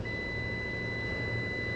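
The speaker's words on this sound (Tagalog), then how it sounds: "Yung buzzer." A Dodge Ram's warning buzzer drones in a steady, continuous beep tone inside the cab, faint but unbroken for the whole moment, with no talk over it.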